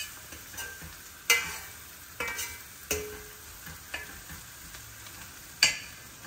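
Chopped onions with a pinch of turmeric frying in a pan for a village-style baingan bhartha, a low steady sizzle broken by several sharp stirring scrapes and clinks at irregular intervals.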